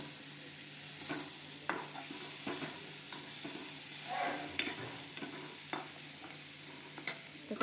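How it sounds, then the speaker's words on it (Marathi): Okra bhaji with chili powder and salt cooks in a pan, a faint continuous sizzle with occasional light scrapes and taps of a spoon, quiet and steady with no speech. "वाव, मस्त भेंडीची भाजी शिजून राहिली."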